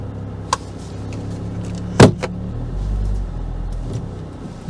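A Volvo XC90 with freshly changed gearbox oil rolls down off the ramps, a low engine rumble under a few sharp clicks and a loud knock partway through.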